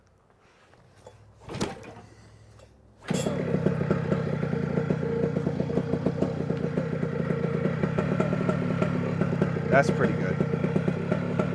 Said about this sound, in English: I may want to idle it down a little bit